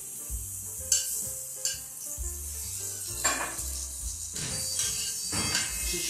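Olive oil sizzles and crackles steadily in a hot pan, with a few clinks of a utensil against metal and scraping, stirring sounds close by.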